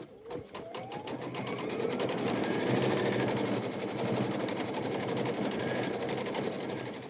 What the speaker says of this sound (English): next we're going to stitch our placement area for our applique